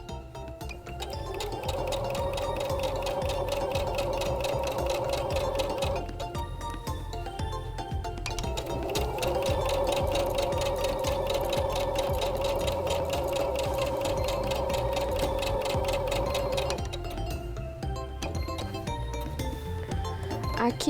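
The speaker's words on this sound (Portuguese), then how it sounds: "passar essa costura de segurança a volta toda para facilitar no processo do quilting livre" A sewing machine stitches a safety seam around quilt fabric in preparation for free-motion quilting, running in a fast steady mechanical whir with one brief pause midway before resuming, loud and close.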